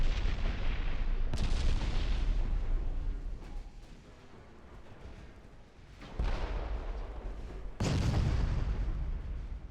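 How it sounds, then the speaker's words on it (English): Ship-mounted 9-inch naval guns fire in the naval warfare game Ultimate Admiral Dreadnoughts: three heavy booming salvos, the last two loudest, each trailing into a long rumbling roar over a constant low battle drone. "But the sheer volume of fire coming out of these 9-inch guns."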